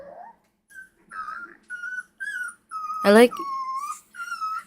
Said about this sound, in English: Oh, the puppies are being dramatic.